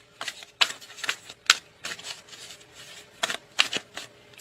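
Tarot cards shuffled by hand in short riffling bursts, crisp papery flutters and slaps repeating every half second or so, close and clear with no talking.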